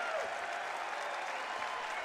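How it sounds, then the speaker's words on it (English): Crowd applause at an NC State Wolfpack basketball game against Mount St. Mary's, a steady, moderately distant wash of clapping lasting the whole moment with no clear voices on top. "Torin Dorn going to get a nice hand from the crowd."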